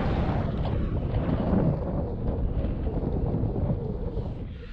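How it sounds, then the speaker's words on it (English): Strong wind buffets the microphone on the water during boat fishing from a 2020 Old Town PDL kayak, giving a loud, steady rushing roar with gusty surges. "Pretty windy out here today, guys."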